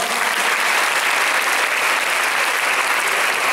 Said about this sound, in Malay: tepukan untuk semua.